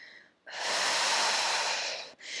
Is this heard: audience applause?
no